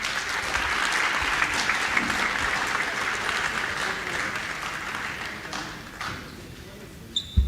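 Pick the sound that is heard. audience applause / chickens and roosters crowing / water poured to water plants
audience applause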